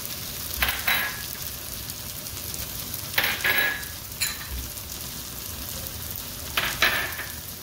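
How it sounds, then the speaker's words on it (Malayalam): Spice powders for a beef bone curry sizzle steadily in a hot frying pan, with a few bursts of louder hissing and scraping as the mixture is stirred, close and continuous without voices. "ഇതിലേക്ക് നമുക്കിനി എടുത്തു വെച്ചിരിക്കുന്ന പൊടികൾ ചേർത്ത് വഴറ്റാം"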